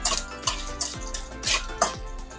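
Panch phoron with green and dried chillies frying in a pan, a soft steady sizzle broken by a series of utensil scrapes and taps at a regular pace, no talking.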